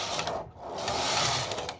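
Singer knitting machine, one of models 321 to 329, with its carriage drawn across the needle bed knitting a row of stocking stitch: a steady close mechanical rattle and clatter lasting under two seconds, with no talk.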